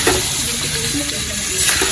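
Mutton sizzles and fries loudly in a kadai, a dense, continuous close crackle with stirring and no voices.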